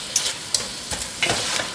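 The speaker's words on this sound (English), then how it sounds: "And then I just give it another little stir to make sure everything's well coated." Onions cooking in a pan being stirred, with a soft continuous sizzle and a few scraping clicks of the utensil, close and moderately quiet, no talking.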